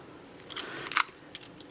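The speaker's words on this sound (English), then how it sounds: "My keys," A bunch of keys pulled from a handbag jangles in a few quick metallic bursts, close and bright, with no voices.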